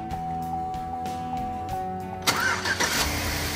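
Car engine being cranked with a repeated starter whine, then catching and firing up loudly partway through, running rough and revving briefly at close range with no talk over it.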